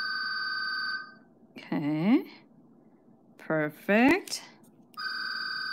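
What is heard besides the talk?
telephone ringing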